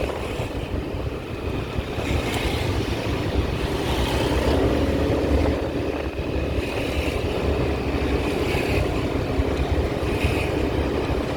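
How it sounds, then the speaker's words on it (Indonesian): Road traffic crawling in a heavy holiday jam on a coastal highway in West Sumatra, heard from inside a vehicle as a steady, loud rumble of engines and wind noise with no talk. "Parah loh macetnya."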